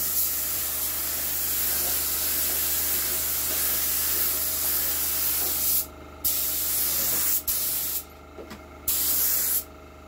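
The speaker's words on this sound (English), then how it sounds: "We want a dust coat to start with." A spray gun lays a light dust coat of 2K paint during a home respray, a steady close airy hiss that cuts out briefly several times near the end as the trigger is released.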